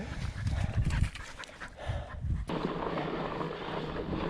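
Dogs pant close by after swimming in a swampy pond during a summer fat-bike ride on a ridge, rapid breathy huffs over wind noise that gives way to steady rushing air.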